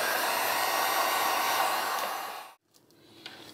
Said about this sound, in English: Heat it up until it's as tight as you want it. This is a Wagner heat gun.